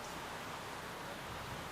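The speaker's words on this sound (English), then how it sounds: "And it started to rain here in Grenada," Steady rain falling in Grenada, a soft, even hiss that holds constant at low level with no voices over it.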